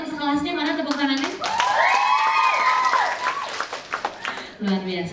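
A dance class claps together at the closing of a Sundanese dance revitalisation workshop, a dense patter of applause under a loud voice speaking over it.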